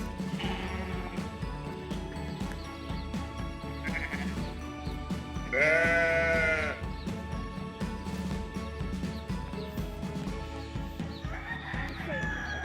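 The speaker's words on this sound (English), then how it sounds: "We're going to move the sheep." Sheep bleat several times amid a busy outdoor homestead farmyard, with other animal calls and background noise; one loud, wavering bleat stands out near the middle.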